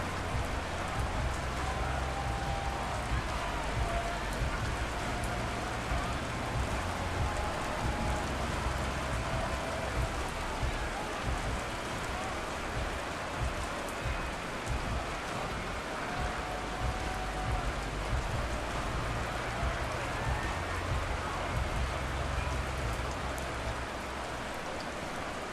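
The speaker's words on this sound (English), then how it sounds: "The rain set to continue as we are underway in the second half." Rain in a Madden NFL 23 stadium, a steady dense hiss of falling drops pattering on surfaces, continuous and even throughout with a low rumble underneath and no voices.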